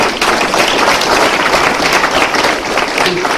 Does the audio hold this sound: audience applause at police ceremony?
yes